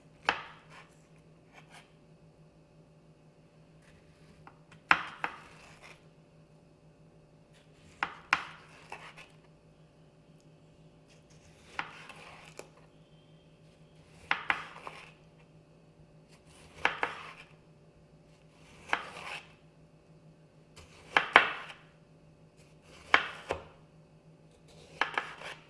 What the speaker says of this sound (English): If we're slicing a tomato, we want to make sure to keep our fingers back out of the way.